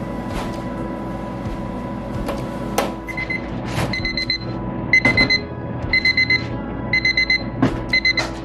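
A kitchen timer goes off while soy curls simmer on low heat, beeping in quick repeated bursts over steady background hum and clatter, getting more regular toward the end.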